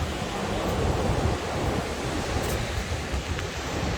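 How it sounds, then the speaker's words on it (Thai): Steady surf and wind at Playas de Tijuana beach, where the border fence runs down into the sea: a continuous broadband wash of breaking waves with wind noise, constant and fairly loud, with no voices. "อันนี้คือ บรรยากาศของปลายาเดจูฮัวนานะคะ"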